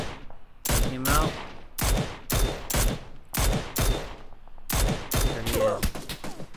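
Rapid gunfire bursts in PUBG, Player Unknown's Battlegrounds, sharp loud shots firing in quick repeated clusters with brief pauses between volleys.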